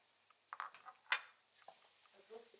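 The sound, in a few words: washed rice being added to the pot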